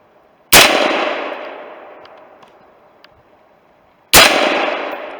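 Two sharp, ringing metallic clangs from bullets striking a steel target on a compound range, each impact loud and close with a long decaying ring, spaced about three and a half seconds apart.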